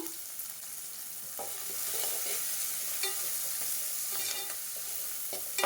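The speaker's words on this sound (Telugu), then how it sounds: "ఎర్రగడ్డ పచ్చివాసన పోయే వరకు వేయిద్దాము" Onions frying with turmeric and curry leaves for a chicken curry, giving a continuous soft sizzle with occasional faint scrapes of a spoon in the pan and no talking.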